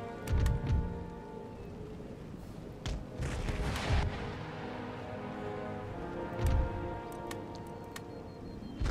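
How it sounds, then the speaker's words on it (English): Howitzer artillery in the game Empire Total War fires in scattered heavy booms, several distinct blasts spaced irregularly over a crackling battlefield background with no talk. "Get the guns to shoot at whatever they want. Howitzers, clear them out."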